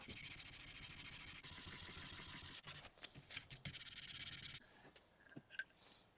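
Steady, fine rubbing of sandpaper stripping paint from a Gibson Explorer guitar body, a continuous close scratchy hiss that breaks into shorter strokes and taps before fading to quieter handling.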